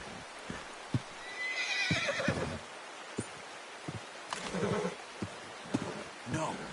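A horse in Red Dead Redemption II neighs and whinnies repeatedly, mixed with clip-clop hoof thuds and game ambience, loud and close over several seconds, with a voice talking in between.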